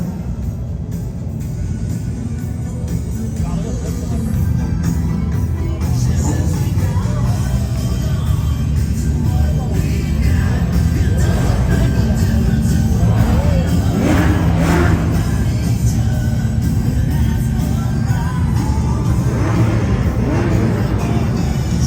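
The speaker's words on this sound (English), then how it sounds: "We got a lot of Porsches coming your way, Joe." Porsches and other exotic and custom cars cruise past at the SEMA cruise in Las Vegas, with a loud continuous engine rumble and rising revs, crowd noise and talk mixed in.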